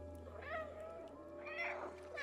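A black cat in the video game Stray meows twice, each call a clear, rising-and-falling cry close at hand over a low, steady background hum.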